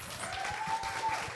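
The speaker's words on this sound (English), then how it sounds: "I just want to give another round of applause to our amazing panelists." An audience applauds panelists at an evening talk on looking good, a steady soft patter of clapping throughout the short stretch without voices.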